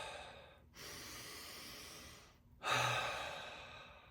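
Deep, slow breaths while a neck trigger point is held, two long airy exhalations separated by brief pauses, close and soft with no talk.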